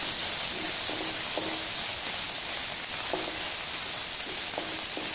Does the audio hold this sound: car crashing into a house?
no